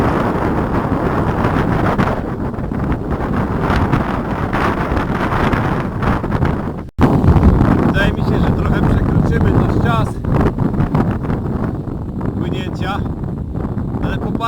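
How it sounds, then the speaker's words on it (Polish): Heavy, constant wind roaring and buffeting the microphone on a kayaking trip down the Nida river, loud and close throughout, with a brief dropout midway. "Co prawda wiatr jest okropny"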